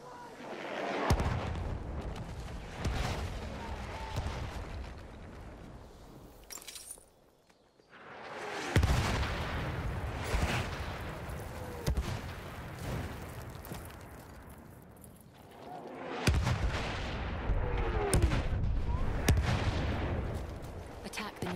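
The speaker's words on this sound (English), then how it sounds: "Wait for the enemy artillery barrage to stop firing." An enemy artillery barrage in the video game Battlefield 1 gives three heavy booming blasts, each trailing into a long rumbling decay with scattered crackles, loud and close.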